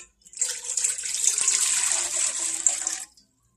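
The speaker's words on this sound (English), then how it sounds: "you're going to want to add 4 cups of cold water" Cold water runs steadily into a cooking pot for about three seconds, a close, even hiss of pouring with no talk over it, while a Cajun chowder is being started.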